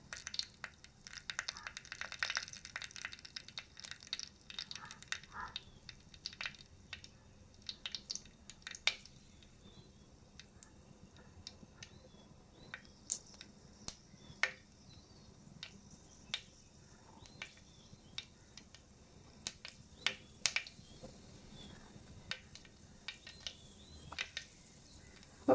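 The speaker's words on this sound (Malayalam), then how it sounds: "അപ്പോൾ കടുക് പൊട്ടിയിട്ടുണ്ട്. അപ്പോൾ കടുക് പൊട്ടിക്കൊണ്ടിരിക്കുക കേട്ടോ" Mustard seeds pop and crackle in hot oil in a pan, heard as a scatter of faint, sharp irregular snaps over a quiet hiss while cooking a Kerala-style fish curry.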